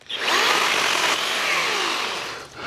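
An EGO multi-head system cuts tree limbs with a loud, steady motor whine for about two seconds, dipping briefly at the end, with no talking.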